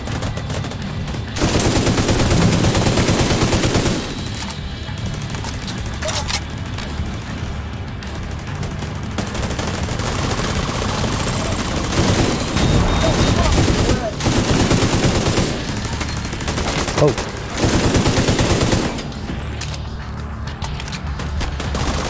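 A deployed turret and weapons firing in The Division 2 video game, rapid bursts of automatic gunfire in repeated volleys with short gaps, loud and close throughout.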